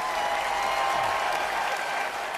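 A studio audience at a televised music competition claps steadily, dense and loud applause filling the whole moment.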